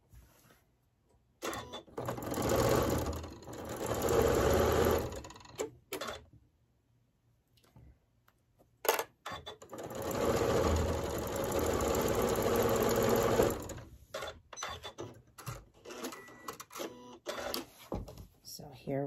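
A sewing machine runs in two long bursts stitching a quilt block seam for a Martha Washington star pinwheel block, its rapid mechanical whir steady, with short pauses and clicks between and a voice talking intermittently.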